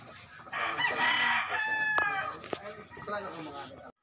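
A gamecock rooster crows in a backyard breeding area, one long harmonic crow rising and holding near the listener, followed by a sharp snap and clucks among other fowl.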